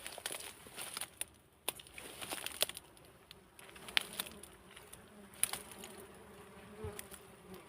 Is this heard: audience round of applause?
no